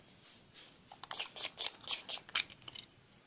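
Package being opened, with a quick series of close, crisp snipping and crinkling bursts in an uneven rhythm, alone without talk.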